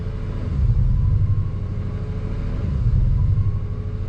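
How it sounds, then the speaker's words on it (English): A Honda engine runs with a sporadic, surging idle, a steady low rumble that swells and eases in slow waves, heard close up with no talking. "now the vehicle's been running for a little while, and you can see where it's surging"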